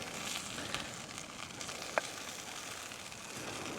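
Sausages cooking slowly over low heat on the beach at Chesil, giving a faint, steady crackle and sizzle with one sharp tick partway through and a soft outdoor hiss behind it.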